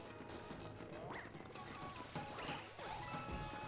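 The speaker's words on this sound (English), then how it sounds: "where you hit all the gongs" Gongs struck in the Super Mario 3D World video game ring out in a few metallic crashes and thwacks over a continuous game soundtrack.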